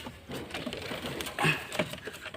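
Pigeons coo softly in a loft, a brief, low, murmuring call with light rustling and no talk.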